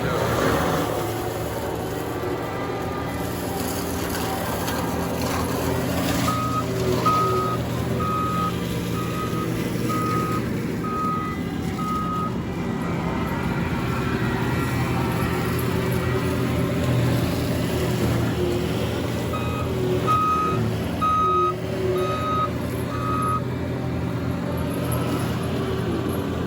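A truck backing up on a forestry mulching site at a farm, its backup alarm giving two runs of steady, evenly spaced beeps over a constant rumble of heavy machinery.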